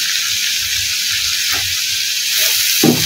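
Bitter gourd goes into a hot pan and sizzles, a loud, steady hiss of frying with a few soft clinks and stirring knocks near the end.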